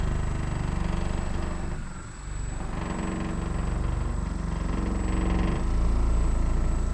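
A Saker cordless car polisher runs at speed on a car's paintwork, a steady close motor whine with a dense buzzing drone that briefly dips, then rises and holds.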